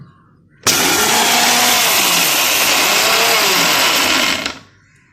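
A mixer grinder pulses a jar of peanuts for peanut butter, a single loud burst of dense whirring grind of about four seconds starting and stopping abruptly, close and alone with no talking.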